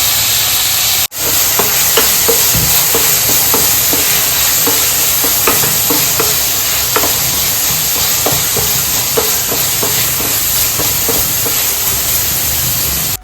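Onion, ginger and garlic fry in a pan for paneer masala, giving a loud steady sizzle with occasional stirring scrapes and a sharp clank near the start, no voices.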